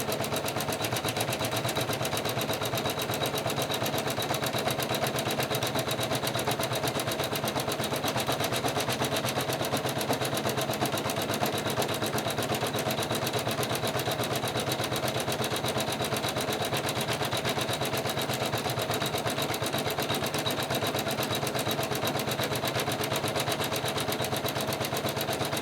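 An embroidery machine stitches a quilt section held in its hoop, giving a loud, fast, unbroken mechanical rattle that stays steady throughout.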